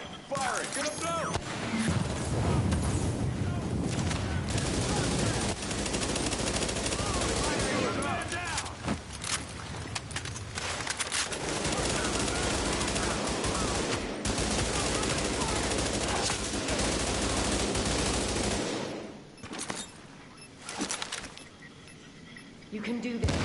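Sustained automatic gunfire in The Division, dense rattling bursts from several weapons that keep up for most of the stretch, then drop off briefly near the end under shouted voices.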